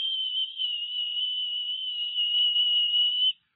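A steady, pure high whistle holds one even pitch for over three seconds, gentle and unbroken, then stops abruptly; nothing else is audible.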